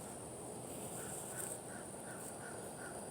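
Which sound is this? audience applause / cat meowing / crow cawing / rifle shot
crow cawing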